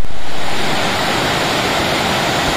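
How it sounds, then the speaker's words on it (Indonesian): Rushing river water at a junction where a small river meets a larger one in rural Sumatra, a loud dense broadband roar, steady and close, slightly louder at the very start. "Ada dua persimpangan sungai di sini ya. Ini sungai kecilnya dan ini sungai besarnya"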